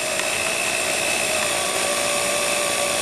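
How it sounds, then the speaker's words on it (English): Power drill boring through particle board, a steady high-pitched whine held at constant speed for a few seconds, close and loud with no talking. "You don't have to push your drill button very hard."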